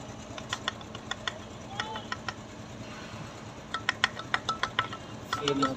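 Isuzu D-Max 3.0 DI Turbo diesel engine idling close by, with a steady ticking, clattering rhythm and sharp clicks; people talk over it at times.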